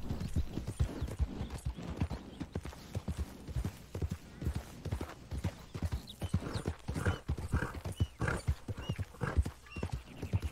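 Horse hooves clip-clop in Red Dead Redemption 2, a brisk, steady run of close hoofbeats with a brief whinny, no talking over them.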